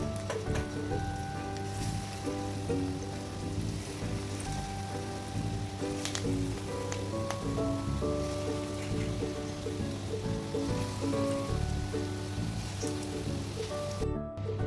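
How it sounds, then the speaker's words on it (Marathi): Pakoda fritters of gram flour frying in hot oil, a steady crackling sizzle like rain that runs unbroken and fairly close throughout, with faint kitchen clinks and background tones beneath. "चला मग आपण पकोडे हे तळून घेऊयात."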